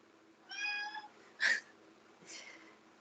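A pet cat meows indoors, a drawn-out call followed by two shorter meows, fairly close and clear against a quiet background.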